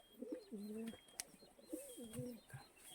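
Pigeons cooing close by in a farmyard, a few soft, low rolling coos in quick succession with faint background noise.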